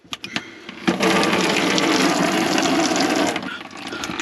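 A sink tap in a tiny home opens after a few small clicks and taps, and water runs in a loud, steady hissing stream for several seconds, then eases off near the end.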